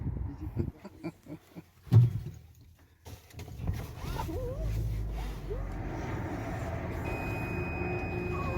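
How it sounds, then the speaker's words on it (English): A dog whines in high, wavering cries that rise and fall, over a steady low narrowboat engine hum and some background rumble at a marina. "you can hear Molly, very excited"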